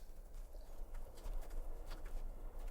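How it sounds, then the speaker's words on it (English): Horse hooves clip-clopping in a wartime drama scene, a rhythmic run of hoof strikes at moderate distance, fairly faint, over low background rumble. "Damn horse scared the crap out of me."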